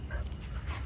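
A dog at feeding time gives a brief, close whimpering yelp, a short whiny vocal burst lasting under a second.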